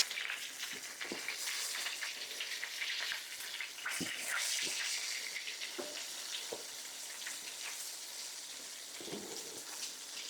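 Chicken frying in a pan, a steady soft sizzle with small crackles and pops scattered through, fairly quiet and heard alone without talk.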